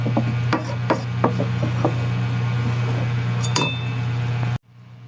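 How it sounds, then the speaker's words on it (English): A wooden spoon scraping and knocking around a pot of banana maja blanca mixture, with sharp clinks and rubs over a steady low hum from a burner, close and clear, ending abruptly. "So we're going to use the wooden spoon"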